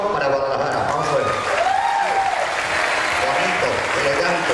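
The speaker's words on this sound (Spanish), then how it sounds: "El aplauso para Guadalajara." A fair show crowd applauds for Guadalajara, sustained dense clapping and cheering filling the space while a voice rises briefly over the noise.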